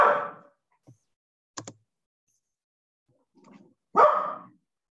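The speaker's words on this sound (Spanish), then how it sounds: "Mi perro está ahí aplaudiendo también." A dog barks twice, a loud bark at the start and another near the end, with a couple of small yips and quiet gaps in between.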